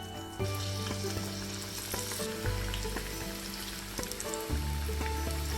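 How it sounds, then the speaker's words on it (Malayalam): Chickpea vadas (kadala vada) frying in hot oil, a steady loud sizzle and crackle running throughout with a few sharper pops and bursts as pieces settle, no talking. "ചൂടായ എണ്ണയിലേക്ക് നമ്മൾ ഓരോന്ന് ഇത് ഇട്ട് കൊടുക്കണം."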